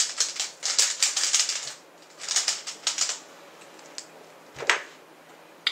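A Rubik's cube is scrambled by hand, making bursts of rapid, close plastic clicking and clattering turns with short pauses between them. Nobody speaks.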